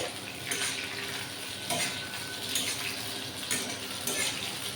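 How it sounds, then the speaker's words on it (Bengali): Softened eggplant pieces frying in a pan, a steady bright sizzle broken by periodic stirring scrapes of a utensil, with no speech. "বেগুনগুলো আমার মোটামুটি সুন্দর করে নরম হয়ে গেছে এবার ভাজাও হয়ে গেছে"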